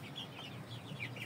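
Hen clucking in soft, repeated bursts over a low background hum, fairly close, with no talking.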